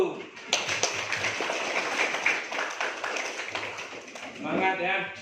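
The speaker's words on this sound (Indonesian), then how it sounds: "Oke, tepuk tangan dulu." Schoolchildren in an Indonesian classroom clap their hands together in a brisk, fairly loud burst of many small claps, while a teacher talks over it.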